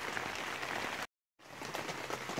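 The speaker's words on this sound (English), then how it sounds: "I can hear the raindrops and see droplets on the skylight there." Rain falls steadily on a yurt after major storms, a dense, even patter of droplets heard from inside, broken by a brief moment of total silence.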